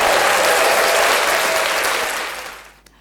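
An audience at a health talk show applauds the guest speaker. The dense, loud clapping holds steady, then fades away near the end.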